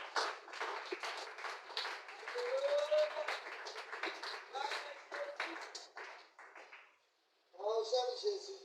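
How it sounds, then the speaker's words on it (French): A church congregation claps for the word of God, sparse and scattered at first under a voice, then fading out briefly before the talk resumes. "Est-ce qu'on peut acclamer la parole de Dieu?"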